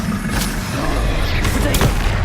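Blasts and booms from the Confringo blasting spell in Hogwarts Legacy, a few sharp bursts rising out of a steady dense rumble, close and loud throughout.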